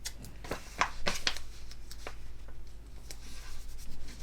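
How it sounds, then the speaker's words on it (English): Standard Tamiya masking tape pressed and peeled against a hand to detack it, giving a few close, quick sticky rips and crackles over a faint steady background hum, no talking. "Piece of standard Tamiya tape. I'll detack it some on my hand."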